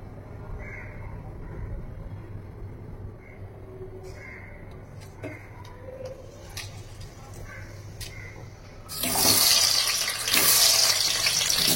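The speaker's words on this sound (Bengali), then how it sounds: "তো এবার চলো এটাকে ধুয়ে নিই" Chopped onions and potatoes rinsed under running water give a quiet background trickle, then a loud tap gush bursts in near the end, close and continuous.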